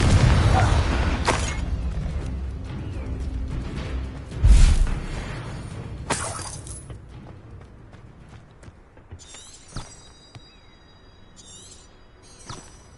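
A Confringo fire spell bursts in the Hogwarts Legacy video game, one loud explosive boom standing out among scattered magical whooshes, impacts and chiming effects, with no talk.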